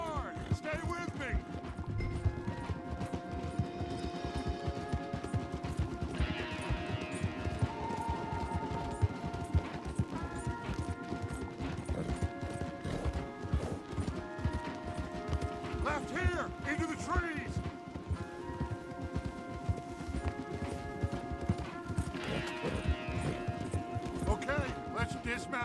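Several horses gallop in a steady rapid hoof rhythm with occasional neighs, over a music score and clattering, as people talk intermittently, in the video game Red Dead Redemption 2.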